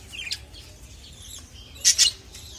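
Budgerigar chicks chirp in two short, high bursts near the end as they are placed in a clay pot nest, with a faint earlier chirp and low background rumble.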